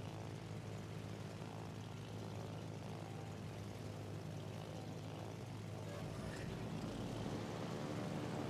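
Carrier aircraft in World of Warships drone steadily as a squadron flies, a continuous propeller-engine hum at moderate level that swells slightly toward the end, with no talk over it.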